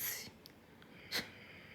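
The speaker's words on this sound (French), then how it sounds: "c'est le chien qui respire" A sleeping dog breathes quietly and lets out one short snort at night, soft and close in an otherwise hushed room.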